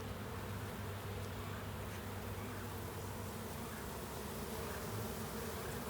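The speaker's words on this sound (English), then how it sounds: "That bee with the pollen keeps moving around from one side to the other." Honeybees on a beehive frame make a dense, continuous buzz, close and steady throughout with no voices.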